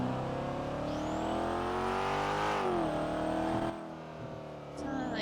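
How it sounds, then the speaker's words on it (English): A speeding Lesser or Sultan RS-V8-type sports car in a GTA game roars past loudly, engine revving steadily with a rising then falling pitch sweep as it passes, then drops off briefly before picking up again. "Sounded like either an LE or a Sultan RS-V8."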